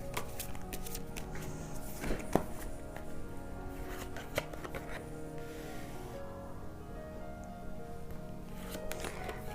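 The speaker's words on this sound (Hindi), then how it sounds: "उनके लिए कार्ड्स निकाल रहे हैं।" Tarot cards are shuffled and drawn by hand, giving a faint, close, continuous papery riffling with a few light taps and snaps scattered through it.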